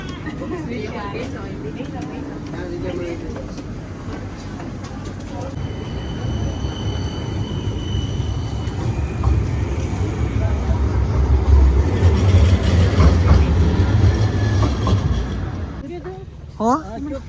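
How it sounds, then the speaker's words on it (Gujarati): A tram ride through Luxembourg, with a steady low rumble of the car rolling along the rails that swells louder toward the end, with people talking over it throughout. "ચાલો ચડાઈ કરો ટ્રામ પર."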